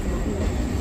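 Bardhaman–Rampurhat MEMU passenger train rolling into a platform at Sainthia Junction, a brief steady low rumble of wheels and motors with no distinct clacks.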